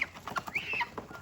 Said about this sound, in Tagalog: Ayan yung mga gansa sa kapabo. Saka bibi. Peking duck.